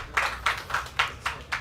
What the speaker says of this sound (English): Another round of applause for Mr. Trevor James, Assemblyman, also the Secretary for DIQUD.